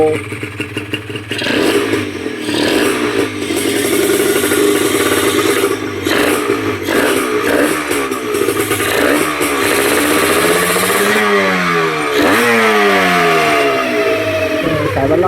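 A Honda NSR150RR motorcycle engine with stock exhaust revs up and down repeatedly, close and loud, with a fairly smooth, mellow exhaust note and some mechanical clatter.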